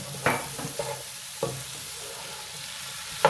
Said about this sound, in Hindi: अब हम इसके अंदर हरी मिर्च, हरा धनिया और बाकी के मसाले जो रह गए थे वो ऐड कर रहे हैं, और इसको अच्छी तरह से मिक्स कर लेते हैं।